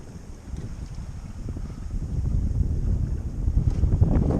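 Wind picking up aboard a sailboat at sea, a broad rushing gust that swells louder over a few seconds, with buffeting against the microphone and no voices.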